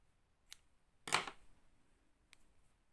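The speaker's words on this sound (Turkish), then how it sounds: "Şu ipi biraz keseceğim." Scissors cutting a silk ribbon thread during needle lace work, heard as one crisp close snip with faint small clicks before and after in a quiet room.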